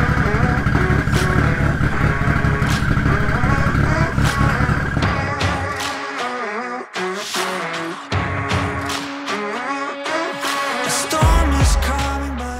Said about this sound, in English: we have a 2003 Evo 8 with cams and a bigger turbo